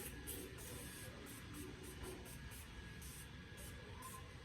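Morphe setting spray is spritzed onto a face in a row of short hissing bursts at a fairly regular pace, quiet and close, over a low background hum.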